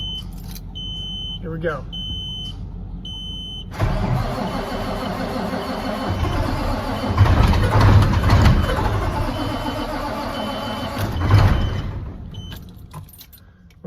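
A vehicle engine is started on a cold day after keys jangle and a warning chime sounds, then it cranks, catches and idles roughly with surges in revving, while a person speaks briefly.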